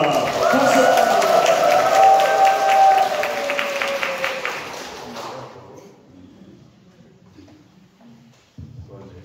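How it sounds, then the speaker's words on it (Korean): An audience at a church autumn concert applauds loudly, a dense burst of clapping with a sustained voice tone over it, fading after a few seconds to quiet room noise and faint murmurs. "박수"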